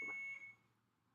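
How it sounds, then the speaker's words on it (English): A single short electronic beep with a steady tone rings out and fades into quiet room noise, with a faint click near the end. "The friendly little beep you hear is my friend Harvey again"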